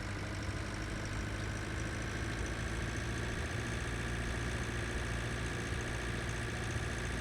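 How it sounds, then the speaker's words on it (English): Tractor engine idling in the farming game Pure Farming 2018, a steady low mechanical drone with constant revs, running alone without any speech. "cruise control just sounds like it's going a lot slower, but I suppose it's just the engine revs dip down a bit"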